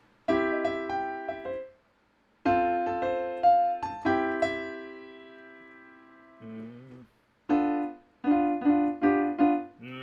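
Piano chords played slowly and close, held and sustained with a few pauses and hesitant changes between them.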